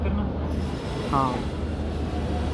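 An intercity express train pulls into Delhi Junction railway station, its steady low rumble filling the scene with a brief squeal of wheels on rails partway through.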